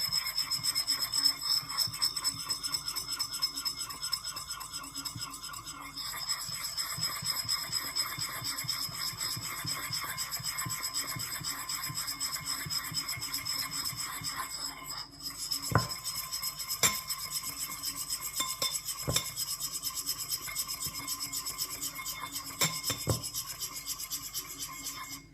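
A utensil scrapes and rubs steadily against a wide bowl as olive butter is stirred into homemade shea hand cream, a continuous close grinding texture with a few sharper clinks partway through, no voices.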